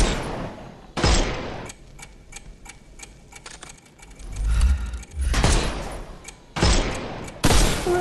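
Gunfire in Sherlock Holmes Chapter One, aimed at enemies' armour, comes as loud broadband bursts near 1, 5.5, 6.6 and 7.5 seconds, with quieter clicking and rattling in between and no talk.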